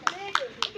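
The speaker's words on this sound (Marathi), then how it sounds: "टाळ्या वाजवा." A few children clap hands in a values class at a Sai Baba temple, three quick claps heard faintly against a voice speaking through them.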